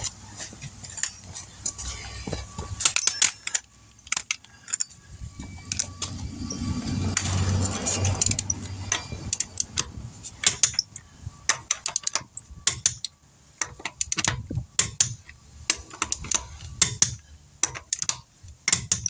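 A torque wrench clicks and ratchets while tightening a wheel on a 2014 Dodge Charger R/T during a brake pad job, giving repeated sharp metallic ticks in irregular bursts with a brief mechanical whir partway through.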